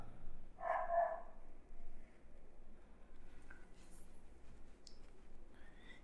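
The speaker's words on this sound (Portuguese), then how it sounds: "Cachorro, filha da puta que não para de latir." A dog barks in short bursts in the background, one cluster early and fainter yelps later, behind a classroom-style lecture setting with low room noise.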